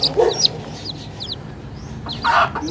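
Several hens cluck and squawk close by in short bursts, with a soft noisy background.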